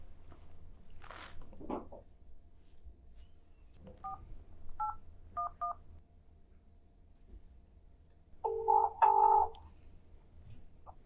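A phone number being keyed in for a call, several short separate dial-tone beeps in a quiet room, followed by a louder burst of tones near the end.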